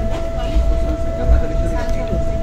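A Vande Bharat Express high-speed train runs slowly through heavy fog, giving a steady, close rumble with a constant tonal hum and a few louder swells, under faint background voices.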